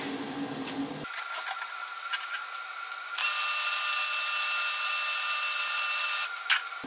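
Stick welding on a small fabricated metal column, an arc crackling and buzzing steadily at close range, with the hiss growing louder and more sustained partway through before cutting off near the end.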